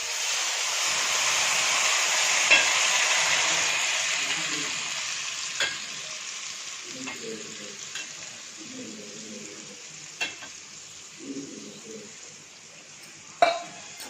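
Mint-coriander chutney paste sautés in a hot pan with a steady sizzle, under occasional spoon scrapes and clicks against the pan, and a few soft low thuds in the second half.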